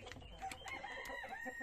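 An Araucana chicken in a henhouse gives a brief burst of clucks mixed with a partial crowing call, close and moderately loud, lasting under two seconds.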